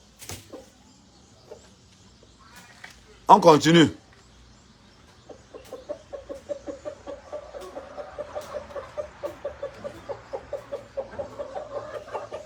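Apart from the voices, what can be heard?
chickens clucking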